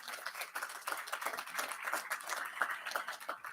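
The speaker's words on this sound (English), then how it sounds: "Can we give her a round of applause?" An audience claps steadily through a round of applause at a Small Business Administration roundtable, dense and continuous without pause, no talking over it.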